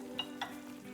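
Butter toffee candy is stirred in a pan, with two light spoon clinks against the metal over a faint, steady bubbling hiss in a quiet moment without speech.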